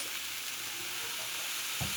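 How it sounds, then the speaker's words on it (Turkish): Peanuts roasting in a pan shaken gently over a low flame on the stove, giving a steady soft sizzling hiss with faint rattling stirs and a brief louder shake near the end, no talk. "Ve şöyle ocağın üzerinde hafif hafif sallıyoruz kısık ateşte."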